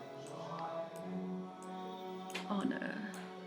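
Karaoke singing from the neighbors' home on a Tuesday evening, muffled through the wall, with a steady voice and backing music running throughout.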